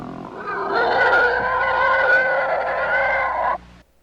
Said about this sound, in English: does that pig sound an awful lot like an Imperial TIE fighter